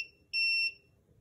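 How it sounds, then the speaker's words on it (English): A SARCTRAC Mk2 3D sensor gives a calibration beep: a brief electronic tone tail at the start, then one clear, sustained high beep of about a third of a second, close and alone. "Whenever we hear another beep, we stop and concentrate around that point."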